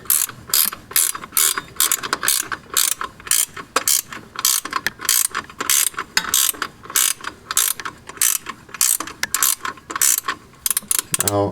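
A ratchet wrench loosens a 19 mm bolt on a car's rear transmission mount, giving rapid, steady rows of close, crisp clicks in quick strokes for the whole stretch, with no talking.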